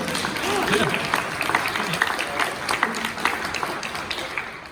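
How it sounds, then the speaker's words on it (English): An audience claps after a magic trick at a university event, a moderate spread of many hands, with a voice talking over the clapping. "that round of applause is for you"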